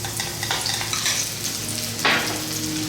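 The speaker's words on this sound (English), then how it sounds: "We're going to start off by adding our garlic, cinnamon and those little cloves." Garlic, cinnamon and cloves fry in hot coconut oil for a Sri Lankan fish curry, a close, steady crackling sizzle with a brief louder hiss near the end as ingredients are stirred.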